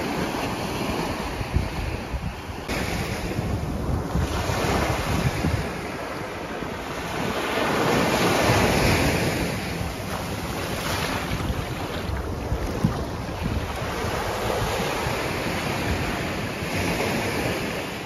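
Ocean waves break continuously on the shore at Bethany Beach, Delaware, a steady rolling surf with swelling surges, mixed with heavy wind buffeting the microphone and no voices.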